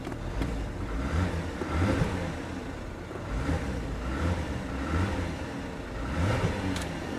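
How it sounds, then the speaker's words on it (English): A 2019 BMW 430xi Gran Coupe engine revs at an auction lot, a steady mid-pitched drone rising in several repeated swells, close and fairly loud with no voices. "let's give it a little rev."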